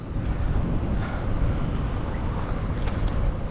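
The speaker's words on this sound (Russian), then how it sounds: "ветер также все встречный" A steady headwind buffets the microphone of a cyclist riding alone on an asphalt road in Yakutia, giving a continuous low rumbling roar with no voices.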